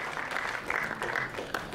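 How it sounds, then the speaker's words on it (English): Brief burst of audience applause for a student at a school event in Goa, a steady crowd of clapping hands throughout, moderately loud with no speech over it. "Please give a big round of applause to Ms."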